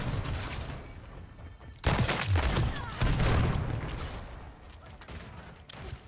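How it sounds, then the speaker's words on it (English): Shotgun fire in a Modern Warfare 3 match comes as loud blasts and booming bursts over a busy game soundscape, with a dense run of shots in the middle. "They're all using shotguns and just somehow they just can't win gunfights."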